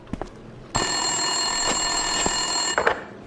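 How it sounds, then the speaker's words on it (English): A desk telephone at a police station rings in Max Payne 2, one loud continuous electronic bell ring lasting about two seconds, close and alone apart from faint clicks before and after. "Winterson's phone was ringing."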